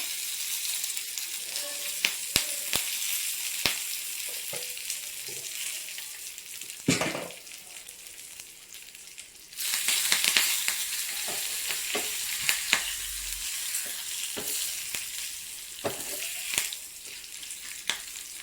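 Asafoetida and curry leaves sizzle in hot oil as a tempering, with a steady bright hiss and scattered spoon taps. The hiss dips briefly, then flares up louder, as if more is added.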